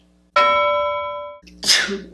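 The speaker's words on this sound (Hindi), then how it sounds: "I can't stop sneezing." A tonal ringing note holds for about a second, then a loud, breathy burst erupts like a sneeze close by.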